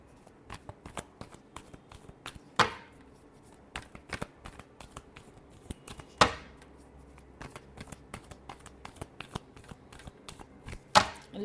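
Tarot cards are shuffled by hand, a quick run of soft riffling flicks and taps with a few sharper snaps as the deck is squared, close and fairly quiet.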